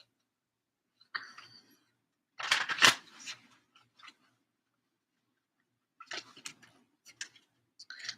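Tarot cards from the Modern Witch Tarot deck being shuffled by hand, close and crisp, in short bursts of riffling and sliding cards separated by quiet pauses, with one louder flurry near the start and lighter flicks later.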